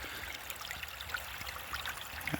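A creek flows steadily with a soft, continuous trickle and babble during winter gold panning, fairly faint and even throughout with small splashy ticks.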